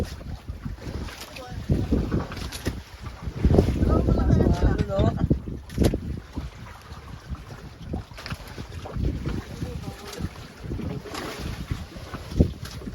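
Strong wind roars and buffets the microphone over engine rumble and splashing water on a boat, with voices talking through it.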